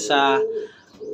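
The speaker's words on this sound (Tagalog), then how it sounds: "So, hawakan ko ibon ngayon, bibigyan natin siya ng pang-recover" A racing pigeon coos while being held in the hand, a close, full-voiced warbling call that fades into quieter rustling, with a brief spoken word nearby.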